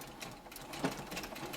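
A sewing machine stitches across a ruffled apron, a fast steady mechanical chatter that runs continuously and close up without any talking.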